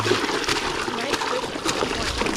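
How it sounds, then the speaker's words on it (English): Water splashing and sloshing into a lidded bucket aboard a skin-on-frame pedal drive canoe in Baja, Mexico, a close, busy churn of splatter running steadily throughout. "Let me get a little more water in there."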